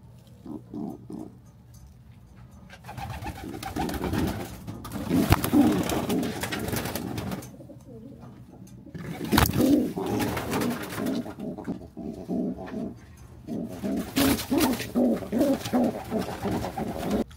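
Pigeons coo repeatedly in a crowded coop, deep rolling calls overlapping in bursts, with wing flutters and shuffling around them and no talk.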